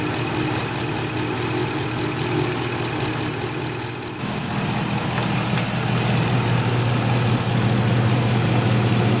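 Steady idle of a Dodge Ram 5.7L engine on first start after a water pump replacement and coolant vacuum bleeding, a constant loud drone that dips briefly midway and then settles back in.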